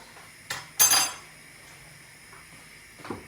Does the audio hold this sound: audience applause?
no